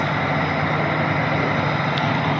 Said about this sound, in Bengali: ট্রেনটা ইলেকট্রিক্যাল ট্রেন